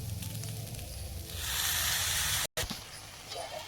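Milk cream hits frying grated coconut in a pan and sets off a loud, broad sizzle that swells midway and stays close, cut by a brief dropout before fainter crackling.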